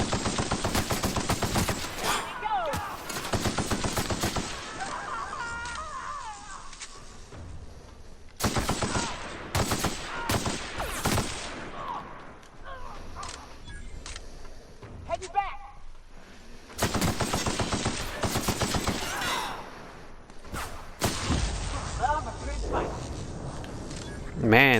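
Video game gunfire in The Outer Worlds, Fallbrook area: long bursts of rapid automatic shots in several volleys with short pauses between, loud and close, with someone talking now and then.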